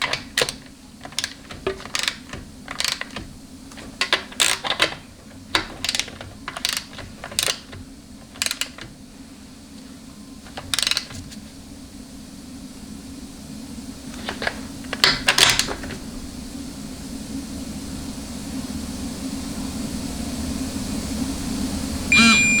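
A torque wrench ratchets and clicks while tightening bolts on a Chrysler A904 (A998) automatic transmission during final assembly, set to 150 inch-pounds. Sharp, close clicks come in quick bursts, then pause, over a low steady background hum.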